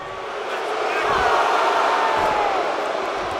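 A wrestling arena crowd in the video game WWE 2K24 roars and jeers in a sustained, loud swell that holds steady for several seconds with no distinct voices above it.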